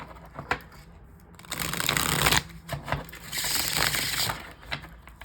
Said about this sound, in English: So let's just give this another shuffle.